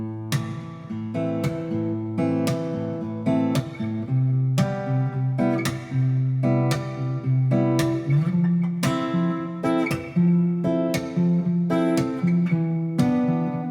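Fingerstyle acoustic guitar arrangement of a pop song, a steady loud picked groove of plucked chords with percussive thumb slaps on the beat, continuous for the whole passage with no talking.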